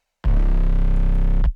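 One wide, stereo-spread, distorted 808 bass note for trap metal, a loud, thick low boom held for over a second before cutting off.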